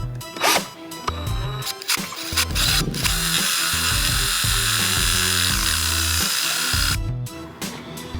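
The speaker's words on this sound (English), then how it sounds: "these holes with my cordless drill" A cordless drill bores holes into wood in a workshop, its whirring motor grinding steadily for several seconds between short bursts of mechanical rattling and clicking.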